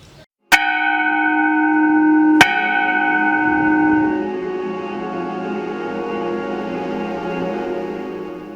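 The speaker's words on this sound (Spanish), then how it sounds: "Es importante mencionar aparte la primera campana." Two struck peals from a church bell in Tecpan ring out loud and close, each strike leaving a long, shimmering hum that slowly decays, with no voices present.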